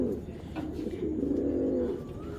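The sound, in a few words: tournament racing pigeons cooing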